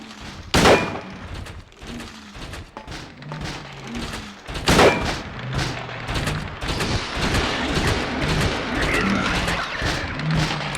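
Gunshots in the survival horror game Silent Hill 2, a few loud sharp handgun reports separated by seconds, amid thuds and game ambience with brief speech.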